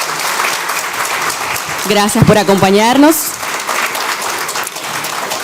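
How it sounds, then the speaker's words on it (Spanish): Audience applause at a forum on circular economy and waste, steady clapping under someone speaking briefly in the middle. "para quien pido un fuertísimo aplauso"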